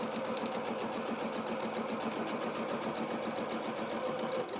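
A sewing machine stitching anorak fabric hums at a steady, even pace up close with rapid needle chatter and no pauses.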